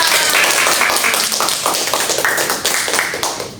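A group of students claps in a classroom microteaching lesson on electrolyte and non-electrolyte solutions, with a dense, steady patter of hand claps running close and loud throughout.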